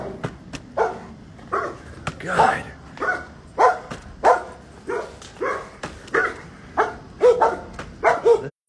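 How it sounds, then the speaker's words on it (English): Several agitated dogs bark repeatedly in sharp, loud bursts at a steady rhythm, with occasional yips, while people talk close by during an outdoor walk in Florida. "Those are some mad dogs."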